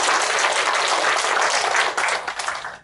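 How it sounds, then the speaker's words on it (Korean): An audience applauds at a launch ceremony for the 160th anniversary of Koryo-in and Korean migration in Gwangju after a National Assembly member's greeting, dense close clapping that fades slightly toward the end. "다시 한번 큰 박수를 보내드립니다"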